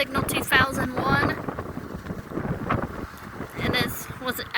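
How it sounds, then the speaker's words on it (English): Gusty wind buffets an outdoor microphone near a Whelen WPS 2804 tornado siren in Litchfield, Illinois, with loud low rumbling bursts that rise and fall while someone talks over it. "It's kind of hard to talk when this wind's blowing"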